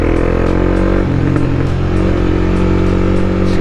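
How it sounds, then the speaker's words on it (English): A Honda CBR 300R motorcycle running steadily close by, its engine note dipping and briefly changing pitch mid-clip as it downshifts, then holding a loud even drone. "That was a clean downshift"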